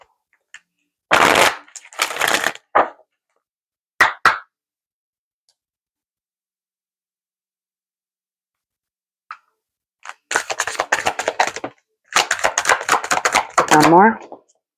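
Dragon Oracle cards shuffled by hand during a card reading, in several short bursts of riffling and flicking separated by quiet pauses.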